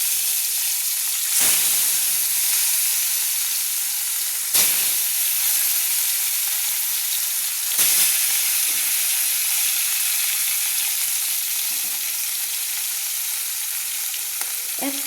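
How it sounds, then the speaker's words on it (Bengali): Marinated rohu fish pieces, coated in salt and turmeric, fry steadily in hot oil, a continuous loud sizzle broken by three sharp bursts as pieces are added or turned. "আমি এই মাছগুলো লবণ হলুদ মাখানো মাছগুলো আমি ভেজে নিচ্ছি।"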